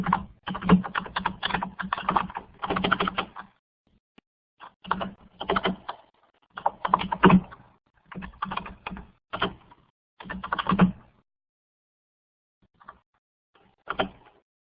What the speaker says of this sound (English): Maybe I'll start typing,